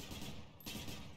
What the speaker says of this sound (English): I am playing Hades with a gun.